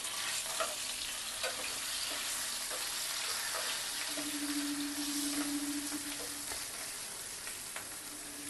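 Potato pieces fry in white oil in a pan, seasoned with a little salt and turmeric, giving a steady close sizzle with soft clinks of stirring throughout and a faint tonal hum partway through.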